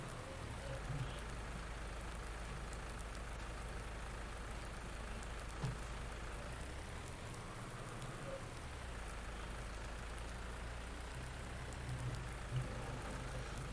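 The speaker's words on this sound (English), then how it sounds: "let's speed up time a bit so that we can get to after the rain." Steady, dense rainfall in the farming video game Farming Simulator 19 hisses continuously, with a low engine rumble underneath.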